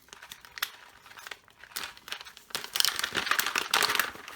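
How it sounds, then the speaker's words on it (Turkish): Package of Rothschild Gold coffee being opened, its bag crinkling and crackling close by in irregular bursts that grow denser and louder toward the end. "Şöyle kahveyi açıyorum."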